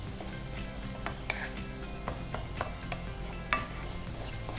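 Pumpkin stirred and gently frying in a pan, a soft continuous sizzle punctuated by scattered light scrapes and clinks of a spoon against the metal, close and quiet.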